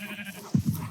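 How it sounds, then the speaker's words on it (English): Minecraft sheep bleat in two short, close, fairly loud calls in quick succession over a low background hiss. "Finally, some sheep spawned here."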